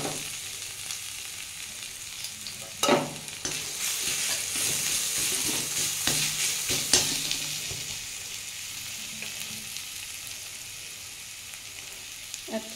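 Ginger and garlic sizzle steadily in hot oil over tempered cumin, with occasional louder spits and a stirring scrape, as a fish-roe curry with pointed gourd and potato begins to cook.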